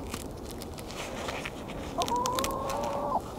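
Garden chickens cluck softly and continuously close by, and one bird lets out a longer, drawn-out call near the end.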